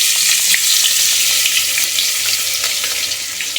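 Chili dropped into a pan of frying Maggi noodle masala with turmeric, a loud close continuous sizzle with crackling pops, no talking.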